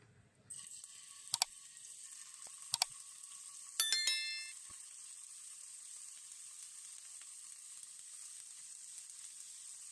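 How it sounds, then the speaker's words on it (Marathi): Paneer slices fry in a pan of oil with a faint, steady sizzle. A few sharp clinks and a short metallic ring come early on, then the soft hiss carries on alone. "त्यासाठी मी पॅनमध्ये थोडंसं तेल ॲड करून घेतलेलं आहे यामध्ये आपण पनीरचे काही काप घालून घेणार आहोत"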